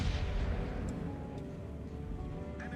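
Battleship main guns firing high-explosive shells in the naval game World of Warships, a muffled low boom at the start followed by a rumbling, fading roar and faint ticks, fairly quiet overall.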